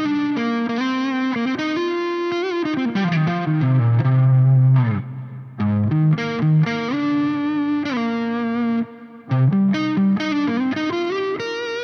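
Electric guitar on the neck pickup through a Neural DSP Soldano SLO 100 amp plugin, playing sustained chords and melodic lines with lush effects, brief pauses between phrases.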